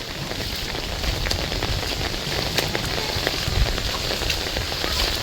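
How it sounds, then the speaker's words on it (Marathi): Heavy first rain of the season pours down in Baramati, a dense, loud, continuous patter drumming on surfaces with water running through the lanes. "पहिलाच पाऊस, जोरदार पाऊस पडलाय"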